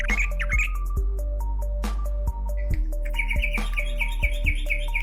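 A sooty-headed bulbul chirps and whistles in quick, bright phrases, close and clear over a steady low hum, with a few sharp clicks.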